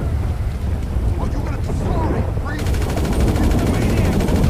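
Gunfire in the video game GTA V during a mission that involves setting fire to and bombing a biker gang's house. A dense, continuous roar of shots and explosions carries over steady game noise throughout.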